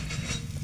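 Thick pork chop frying in its own rendered fat on a heated stone, a soft steady sizzle with light crackle, fairly quiet and continuous, with no voices.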